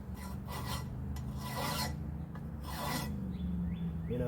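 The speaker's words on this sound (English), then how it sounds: "just file all these across this way until we get bare steel." A hand file rasps across steel parts of a 1965 Ford Thunderbird being rebuilt, down to bare metal. Several close, rhythmic back-and-forth strokes grind out one after another with short pauses between them, with no talking.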